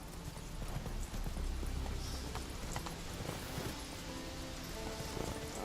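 Roach, the horse in The Witcher 3, gallops with rapid rhythmic hoofbeats that run steadily throughout, close and fairly loud, under a low wash of ambient noise.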